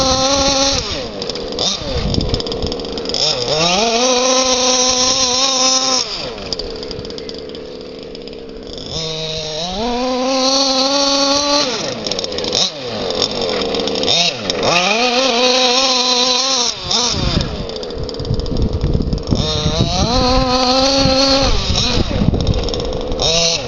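A modified 29cc petrol engine in an FG Marder Beetle RC car with a Red Race V2 ECU revs loudly in repeated rising and falling bursts, buzzing and close, with brief dips between runs; no speech over it.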